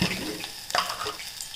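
Water pours into a cooking pot holding raw jackfruit bulbs with salt and sugar for a Havyaka-style dish, a short close splashing stream.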